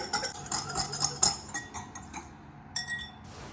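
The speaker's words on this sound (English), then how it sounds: "a teaspoon of sesame oil. Let's whisk that together." Garlic and sesame oil dressing with Dijon mustard whisked in a bowl, a quick run of close metallic clinks and scrapes with a steady rhythm, loud and alone without talk.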